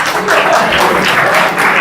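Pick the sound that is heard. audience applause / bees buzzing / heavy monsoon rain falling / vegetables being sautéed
audience applause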